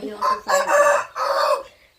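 A rooster crows close by, one full cock-a-doodle-doo in three drawn-out phrases, loud and clear against a quiet background.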